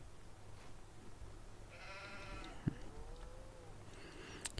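Sheep bleating in the farming game Farming Simulator 19 inside a sheep barn, a couple of faint, wavering bleats over low ambient hum, one brief knock midway.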